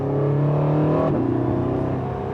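Porsche 918 Spyder hybrid hypercar engine droning steadily at around 66 mph in sport mode, close and loud inside the car, with a brief pitch shift midway as it revs.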